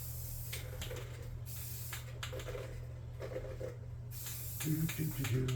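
Black spray paint hissed from an aerosol can onto a tabletop tank model, a series of short and longer sprays, close and steady, with a louder burst near the end.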